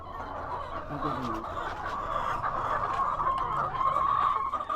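Chickens cluck and murmur steadily over a busy, noisy background, with soft overlapping clucks continuing throughout.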